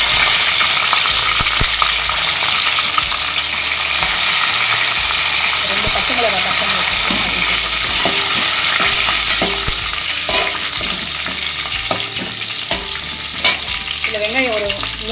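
Broken cashews and curry leaves fry in hot oil with a loud, continuous hiss and crackle up close, while scraping stirs and faint background voices come through at times.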